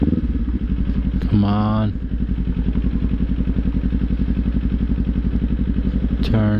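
A Kawasaki Z400 motorcycle runs steadily nearby with a throbbing mid-pitched engine note while a rider speaks briefly over it, with short horn-like tonal bursts in the mix.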